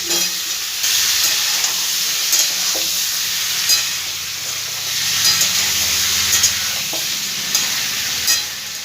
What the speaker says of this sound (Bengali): ভালো করে একটু নাড়াচাড়া করে দেবো সবজিগুলো